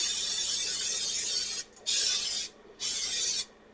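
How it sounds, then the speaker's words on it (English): Cooking spray hisses onto the bottom of a cast iron pie dish in three steady bursts with brief pauses between them, and no talking. "So we're going to spray the bottom."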